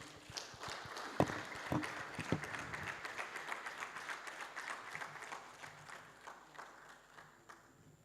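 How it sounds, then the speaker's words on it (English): An audience at an annual professional conference claps after a paper presentation, a few sharp early claps swelling into sustained, moderately distant applause that gradually thins out. "Another very big clap of ovation"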